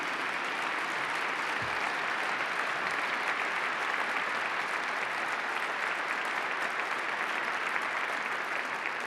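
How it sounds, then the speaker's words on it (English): A crowd at a celebration of the 50th anniversary of the Apollo 8 mission gives a round of applause for Ellen Stofan and the National Air and Space Museum, a continuous wash of many hands clapping at an even volume. "if we could get a round of applause for Ellen Stofan and the National Air and Space Museum."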